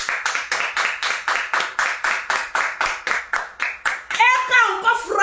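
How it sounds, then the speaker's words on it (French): Hands clap in a rapid, steady rhythm of about a dozen sharp claps over four seconds, loud and close, before an excited voice breaks in at the end. "On acclame."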